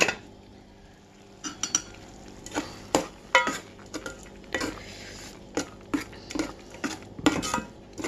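Orange pulp cooking with sugar in a pan, stirred with a utensil that clinks and scrapes against the metal in irregular sharp knocks over a soft simmering sizzle, close and clear with no talk.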